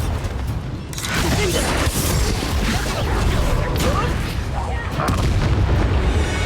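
The Bombarda blast spell goes off in the video game Hogwarts Legacy amid a dense, loud, continuous barrage of booms and crackling impacts, with voices shouting over the din.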